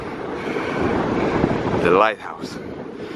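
Strong wind buffets the microphone on the coast of Mozambique, a steady rushing roar as a person speaks over it, then a brief drop and more gusts.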